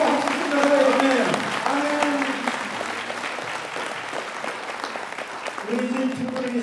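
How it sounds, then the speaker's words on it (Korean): Applause from a church audience at a charismatic renewal gathering, a broad clapping wash that runs the whole moment alongside a steady background voice speaking. "받은 사람은 박수 주십시오."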